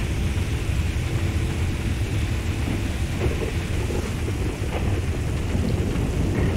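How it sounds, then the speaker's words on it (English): Steady rainfall in Grand Theft Auto V, a dense continuous hiss of rain on surfaces with low rumbling wind, even and unbroken throughout, with no voices. "it is forever raining in this damn game"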